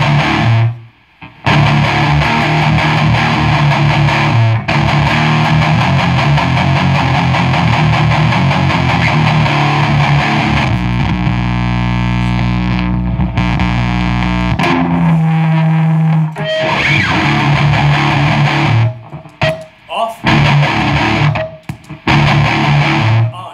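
Guitar amp played through a Randall overdrive pedal cranked to maximum and switched on, giving a loud, dense, buzzing distorted tone with chugging chords and sustained ringing notes across a long stretch, with brief pauses between phrases and no talking.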